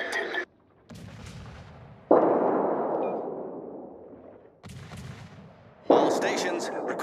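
Warship main guns fire in the video game World of Warships, with heavy booming salvos that each roll off into a long decaying rumble, two big blasts a few seconds apart along with shorter thuds.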